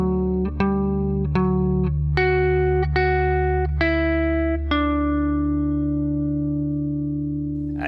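Electric guitar plays the closing bar of a riff, a run of several picked notes with clear attacks that ends on a sustained, ringing note, heard alone with effects coloring the tone.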